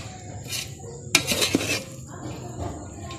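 Mutanjan sweet rice being stirred in a pot, with a burst of clinking spoon-on-metal scrapes and knocks in the middle, close and moderately loud over a quiet background.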